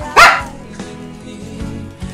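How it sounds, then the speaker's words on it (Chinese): A dog gives one sharp bark close by, followed by a faint room background with a few small sounds. "他的狗在叫。"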